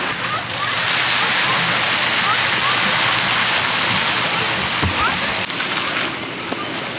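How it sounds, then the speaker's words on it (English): Water jets of a fountain show at the Toverland theme park rush and splash in a steady, loud wash of spray that fills the scene, with a few brief splashes toward the end. "A nice water fountain show."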